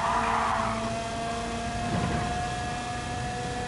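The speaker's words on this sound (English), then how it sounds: "Oh my gosh, I can hear the tyre squealing." Go-kart engines drone in a Gran Turismo 7 race, with a tyre squeal rising briefly from the steady motor noise, moderately loud and without talk.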